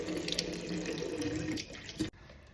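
Tap water runs steadily into a sink during a face wash, a continuous close splashing rush that cuts off abruptly near the end.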